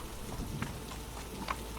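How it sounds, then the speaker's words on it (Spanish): Steady rain pours down during a storm, a dense, even hiss of falling water with a few louder drop impacts, continuous and fairly close throughout the short stretch. "La lluvia no cesaba"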